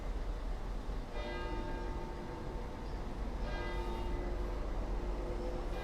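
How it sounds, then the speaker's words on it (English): Church bells ring at a distance in medieval Vannes, southern Brittany, with two faint tolls standing out over a steady outdoor street hum. "Even the church, the church bells are ringing."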